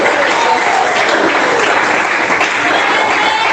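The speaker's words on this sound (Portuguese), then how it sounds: "Quem bate palmas e dá glória a Deus." A church congregation clapping during a sermon, loud continuous applause from a close crowd, steady throughout with a hint of voices mixed in.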